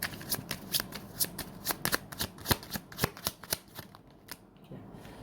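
Tarot cards are shuffled by hand in a quick series of crisp riffling snaps and flutters, close and clear, easing off near the end with no voices over them.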